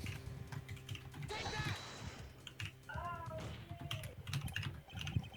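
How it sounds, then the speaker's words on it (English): Computer keyboard keys clatter in quick irregular bursts, close and continuous, with a cat meowing briefly partway through and faint voices in the background. "How's the typing there, Neo?"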